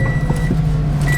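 A car engine idles steadily up close, a low continuous hum that holds the whole time with no change in pitch, in a car that has just had a new 10.1 inch double DIN head unit fitted.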